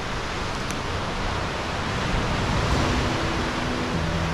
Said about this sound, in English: there's the cave down there where all that water is splashing